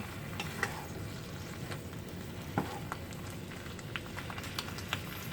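Corn and bamboo shoots frying for shrimp chop suey, a steady dense sizzle with scattered crackles and small pops throughout, close and moderately loud, no voices.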